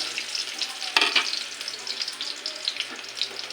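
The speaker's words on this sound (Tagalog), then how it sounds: "Nagisa ako ng sibuyas guys. Bawang." Onions and garlic sauté in a pan with a quiet, crackly sizzle close by, broken by a sharp clatter of a utensil about a second in and scattered light scrapes, no voices.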